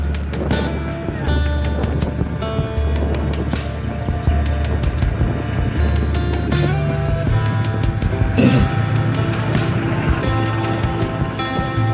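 A motorcycle weaving through a city traffic jam on a commute home from the office, with a steady engine drone, constant rushing wind, and other road traffic around it, loud and continuous.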